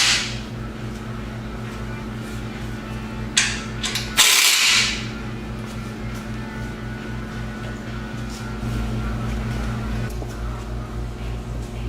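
Ratchet tightening exhaust clamps on a Dodge Challenger during a resonator delete, producing close mechanical clicks and clunks with a sharp metallic burst midway over a steady low hum.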